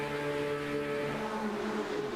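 Porsche race cars in an esports racing game sit on the grid at Hockenheimring, engines revving at the start as a steady, loud, droning tone that shifts slightly in pitch.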